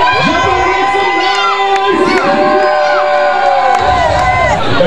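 Crowd of adults and children cheering and shouting loudly for a team at a church sports parade, a continuous dense roar of voices with excited whoops throughout.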